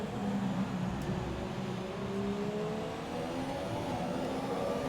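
A race car engine in the F1 2017 video game at the Singapore circuit hums and climbs steadily as it accelerates, a continuous whirring drone held at even loudness throughout.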